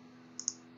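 A computer mouse gives a quick double click, two faint, crisp ticks close together over a low steady hum.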